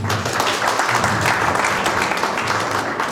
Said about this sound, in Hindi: हम लोग को ताली मारना चाहिए